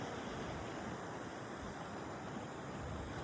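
Sea waves at Calangcawan, Vinzons, Camarines Norte, heard from a boat on choppy water: a continuous faint wash of surf and wind noise with no distinct breaks, steady throughout.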